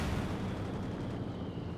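Aircraft strafe support run in Company of Heroes 2, a dense, continuous roar of rapid gunfire and impacts that stays loud and steady throughout the short burst, with no talking.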